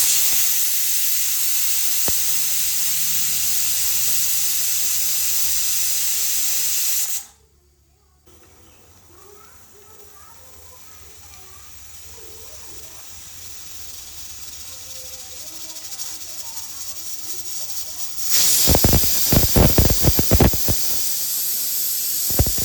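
A pressure cooker cooking methi rice lets out a loud, steady steam hiss for several seconds, goes quieter, then sputters and hisses again in sharp bursts near the end.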